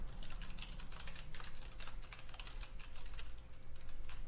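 Rapid clattering keystrokes on a computer keyboard, close and steady for several seconds as a title is typed in, with no voices.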